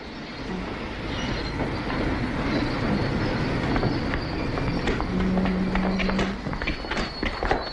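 An international passenger train rolls past with a steady rumble and clickety-clack of wheels, loud and continuous, with brief squeals and clanks.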